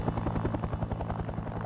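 A Huey helicopter in flight, its rotor beating out a fast, even chop over a heavy engine drone, loud and close with no voices.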